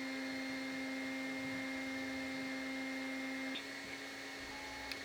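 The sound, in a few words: vacuum cleaner running in the house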